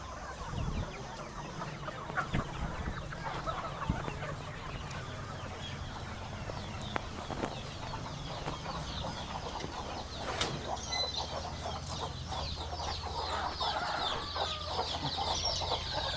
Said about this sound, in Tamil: இது குஞ்சு கோழிங்களை பராமரிக்கிறதுக்கான இடம்